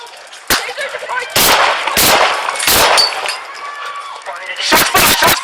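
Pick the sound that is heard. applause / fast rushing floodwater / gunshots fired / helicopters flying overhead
gunshots fired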